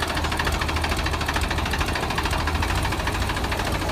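A diesel tractor engine, a Mahindra 265 or Sonalika 35 at a tractor tug-of-war, runs loud and close with a rough, knocking rumble. The note stays fairly steady throughout, and no voices are heard.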